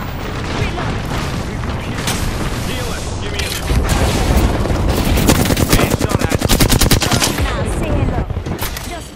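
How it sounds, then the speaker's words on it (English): Rapid gunfire from the battle royale game Apex Legends, with bursts of automatic shots, sharp cracks and booms close and loud, building into dense sustained volleys; a voice speaks briefly over the shooting. "Getting shot at."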